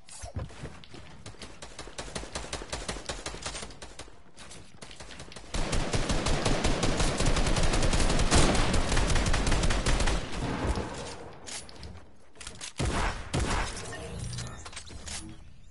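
Gunfire in a Fortnite arena match, rapid bursts of automatic shots that rise into a loud, sustained volley mid-way, then break into scattered shots near the end.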